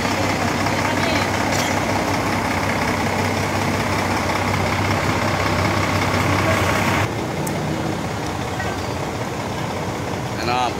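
A school bus idling at a field trip pickup, a loud steady diesel drone that drops in level partway through, with people talking over it.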